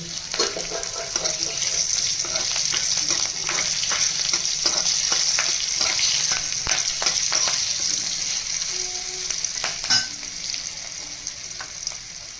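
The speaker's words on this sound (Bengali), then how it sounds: "আর সর্ষে কিছুটা ফোড়ন দিয়ে দেবো ফুটে গেলে কাঁচা লঙ্কা একটা দিয়ে দেবো" Mustard seeds splutter in hot oil for a Bengali hilsa fish lemon curry, giving a close, steady crackle dense with sharp pops and a louder burst near the end.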